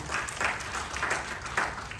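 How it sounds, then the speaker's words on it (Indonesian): Congregation applause during a church sermon, a steady wash of clapping with a few louder swells, moderately distant and fairly soft, with no talking over it. "Beri tepuk tangan bagi Tuhan kita."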